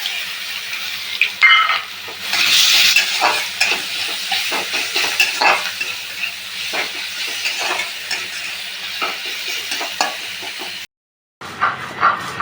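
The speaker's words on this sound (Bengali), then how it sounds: "পেঁয়াজ কুচি করে নিয়েছি সেটা দিয়ে দিলাম" Chopped onions hit hot oil tempered with nigella seeds and fry with a loud, close hiss and crackle, stirred now and then, before a brief gap near the end.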